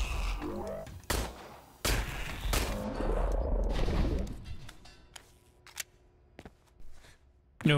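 Pistol shots in the video game Industria, several loud separate cracks with echoing tails spread unevenly across the stretch, mixed with quieter clicks and clatter in between.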